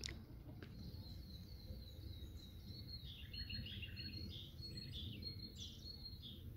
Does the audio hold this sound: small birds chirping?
yes